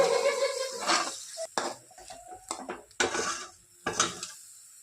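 Spices with turmeric and salt being sautéed in a pan for a potato fish curry, with irregular clinks and scrapes of a spoon against the metal pan and a faint sizzle between the strokes.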